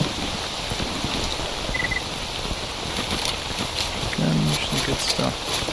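Steady rain falls in the STALKER Anomaly video game, a dense continuous hiss with no breaks. A faint low rumble sits underneath the rain.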